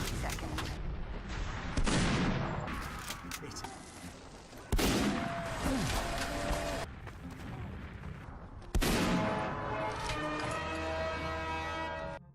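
Gunfire from Team Fortress 2 gameplay, with several sharp, heavy shots, including sniper rifle fire, each followed by a booming ring, spaced a few seconds apart over continuous game background noise.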